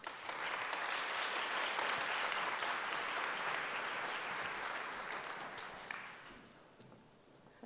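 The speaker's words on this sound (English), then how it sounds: "Please give a warm applause to Professor François Rouef." An audience gives sustained, dense applause in a hall at the Institut Polytechnique de Paris doctoral graduation ceremony for the class of 2021. The clapping stays steady, then thins and fades near the end.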